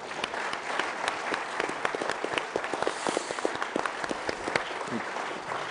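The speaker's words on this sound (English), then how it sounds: "let's give a round of applause, particularly to that young lady that came up to ask that thoughtful question" An audience at a panel on regional orders and new ways of war gives a sustained round of applause, many hands clapping evenly throughout at moderate distance.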